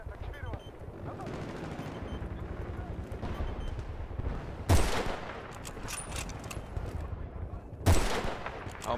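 In-game gunfire from Battlefield Bad Company 2, with dense bursts of shots running continuously and two loud, sharp blasts standing out, while a player talks over the action.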